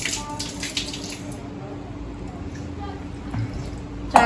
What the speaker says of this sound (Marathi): तांदूळ धुती आता ती.